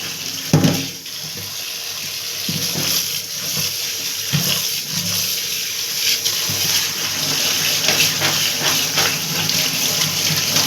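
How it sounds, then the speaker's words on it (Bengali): Shredded taro rinsed under running tap water, a steady splashing gush with occasional louder sloshes as it is stirred by hand, close and continuous, without speech. "এখন জল দিয়ে ভালো করে ধুয়ে"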